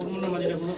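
Fancy pigeons coo in a low, soft, continuous murmur, with the faint sound of a voice mixed in.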